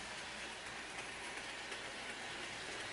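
A model train runs with motorised A and B units pulling six cars, giving a steady, dense rolling rumble and hiss with faint clicking, close by.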